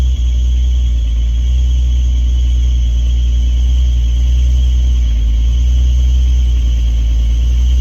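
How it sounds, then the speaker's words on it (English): A 1973 Ford Maverick engine idling with a squealing belt, a loud steady low rumble with a thin sustained whine above it, close by and without talk. "Got a belt squealing, that's all right."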